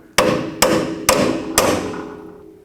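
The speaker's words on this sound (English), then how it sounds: "I'm gonna hammer the fork for the strut forward so that I can have enough room for a tool in here." Four sharp hammer blows strike the strut fork on an Acura TL during front control arm bushing work, evenly spaced, loud and close, each ringing briefly.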